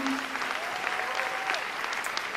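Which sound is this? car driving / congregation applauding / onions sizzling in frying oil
congregation applauding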